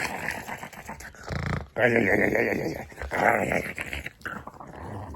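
A Shih Tzu growls and grumbles in close bursts, rising and dropping over several seconds with brief whimpery edges, while a person talks nearby.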